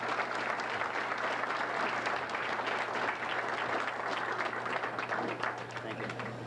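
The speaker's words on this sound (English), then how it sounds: "So give him a nice round of applause so we can stay." Applause fills a hall at an award dinner as an audience claps continuously and evenly throughout, a dense moderately loud wash of hands.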